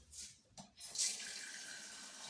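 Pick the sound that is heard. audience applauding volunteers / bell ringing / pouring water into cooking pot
pouring water into cooking pot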